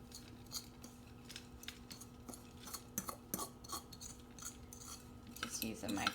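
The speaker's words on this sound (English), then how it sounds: "Just using my fork to kind of scrape this all out." A metal fork scraping s'mores bar crumbs out into a baking pan, soft intermittent scratches and clinks of cutlery on metal, quiet and close.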